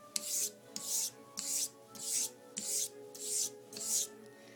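A vintage Bartmann German straight razor is honed on a coarse 1000 grit Narutaki Aka-pin whetstone, giving seven rhythmic gritty rasping strokes back and forth, each a short hiss with brief pauses between, close and fairly quiet.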